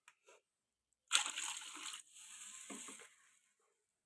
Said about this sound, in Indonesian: Jadi kita tambahkan air secukupnya.